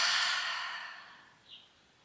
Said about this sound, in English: take the deepest breath we've taken yet today as we inhale through the nose. Hold for a second and exhale out the mouth.